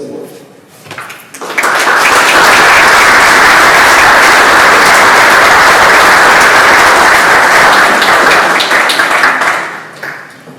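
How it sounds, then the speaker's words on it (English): Sustained audience applause fills a room at an awards luncheon, swelling quickly after a short spoken lead-in and holding loud and steady for several seconds before tapering off. "Let's give them all one more round of applause."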